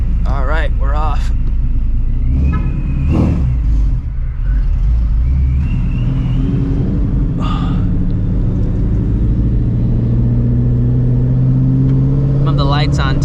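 A 700-horsepower Procharged Shelby GT350 Mustang in sport mode rumbles and pulls away loudly from close inside the cabin, its engine note climbing steadily, while people talk over it.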